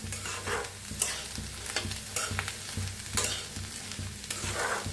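Maize kernels roasting and being stirred in a pan, with a steady dry crackling sizzle and repeated scraping strokes of the stirring spoon, close and moderately loud.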